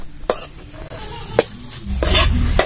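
Banana flower stir-fry from the red chenkadali banana is tossed and stirred in an open pan. Scraping strokes come in short bursts over a steady sizzle, close and loud.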